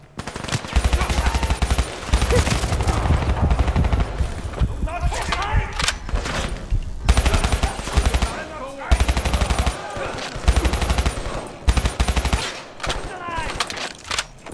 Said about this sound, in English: I've got a gun that shoots three bullets at once.